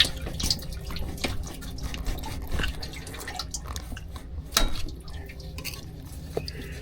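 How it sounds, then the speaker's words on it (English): Oil drips from a car engine into a bucket underneath during engine removal, heard as faint irregular close drips and taps over a low background rumble. "Yep, there's oil in there. I gotta go get a bucket under it."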